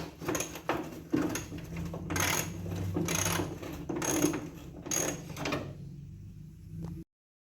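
Hand ratchet clicking as a bolt is worked loose on a 1972 Buick Skylark during windshield channel rust repair, several short bursts of close, crisp ratcheting with brief pauses between strokes, then silence.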